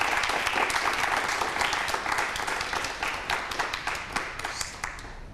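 A studio audience at a health quiz show breaks into loud, dense applause that starts at full strength and gradually thins toward the end.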